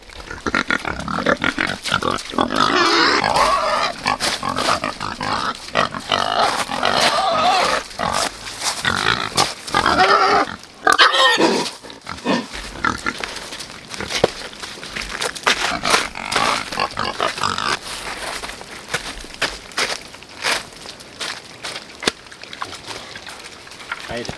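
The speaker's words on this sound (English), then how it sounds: "So the pigs were probably in their shelter just waiting for me to come bring them food." Pigs on a homestead grunt, snort and squeal again and again as they come for feed during an ice storm, loud and close, with occasional sloshing and scuffling between calls.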